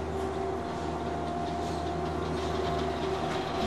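Medellin's Metrocable cable car runs with a steady, continuous mechanical rumble and faint rattling, heard close and alone without talk.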